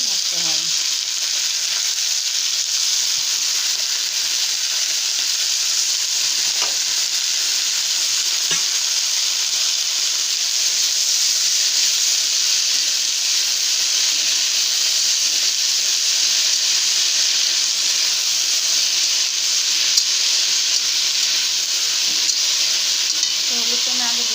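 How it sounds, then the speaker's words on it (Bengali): Fried potatoes and fenugreek greens are stirred together in a pan over a steady, loud sizzle that runs without a break, with occasional faint scrapes from the spatula and a voice murmuring softly in the background. "আমার আলুটা ভাজা হয়ে গেছে এখানে এখন শাকটা দিয়ে মিশিয়ে নেব"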